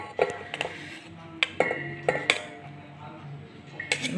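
Metal spoon scraping and clinking against a pan as rice is mixed with ghee for egg paneer biryani, a few sharp irregular clinks over soft stirring, close and moderately quiet.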